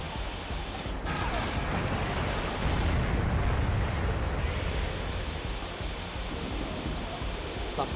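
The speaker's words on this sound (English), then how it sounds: "Something is shooting at me again." Sustained incoming fire aimed at the player in the mech combat game Armored Core 2, a dense roaring wash of shots and explosions that swells briefly midway and never lets up.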